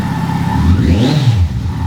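A deep Kawasaki Concours 14 engine with a Delkevic aftermarket exhaust, baffle removed, idles loudly nearby, swelling into a brief throaty rev around the middle before settling back to a steady rumble.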